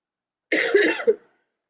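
A single short cough burst, close and fairly loud, ending with a sharper hack, alone with no talking around it.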